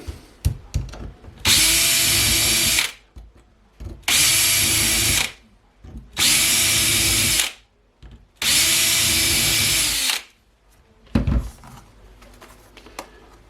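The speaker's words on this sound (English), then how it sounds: "Yes, now the hole's drilled." A power drill bores holes in a DJI Flamewheel F550 drone part for a crash repair, running in four loud, even bursts of about one to two seconds each, with handling clicks between them.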